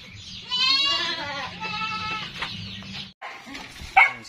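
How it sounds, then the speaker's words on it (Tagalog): Goats bleating on a farm raising Boer and Anglo-Nubian cross goats, several wavering calls close by in overlapping bursts, with a short sharp cry near the end. "so papastol naman na itong mga kambing natin"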